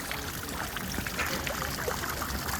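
Water trickles steadily in the Fountain of Youth fountain in Dijon, a 1904 bronze sculpture by Max Blondant, as a continuous, fairly close splashing wash with no talk.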